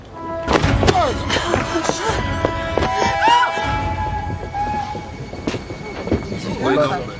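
A loud, close train clatters and rumbles with thumping wheels and metallic squeals rising and falling throughout, with a voice speaking over it.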